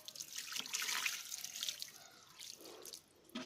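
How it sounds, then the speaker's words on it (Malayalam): Water poured into a tyre for washing with detergent: a short, fairly quiet splashing pour that trails off near the end. "ആദ്യം തന്നെ നമുക്ക് ഇതിൻ്റെ അകത്തേ കുറച്ച് വെള്ളം ഒഴിച്ച് കൊടുക്കാം."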